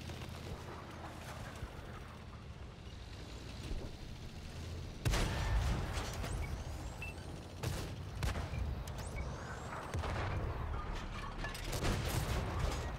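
Artillery fire in the console version of World of Tanks: a constant rumble of battle with several sudden heavy booms breaking in, loud and close, with no voices.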